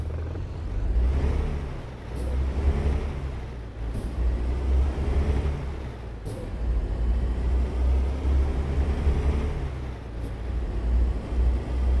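Truck in American Truck Simulator, a steady low engine drone with periodic short hissing bursts of air brake, repeating every couple of seconds at close range with no talk.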